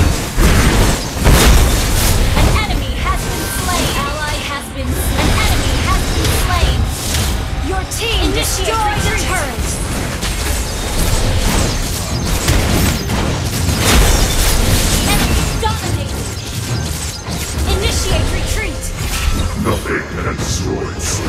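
In a mobile battle arena game, a turret is destroyed with a heavy booming explosion, followed by a dense run of blasts, skill effects and chaotic combat noise. Announcer voice lines play throughout.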